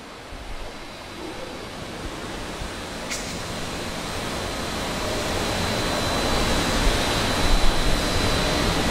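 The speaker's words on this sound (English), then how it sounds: "we're gonna close our downstream gate valve" Water rushes steadily through a Cla-Val 90-01 pressure reducing valve as the downstream gate valve is being closed, a broad continuous hiss that swells slightly louder toward the end, with a brief sharp tick midway.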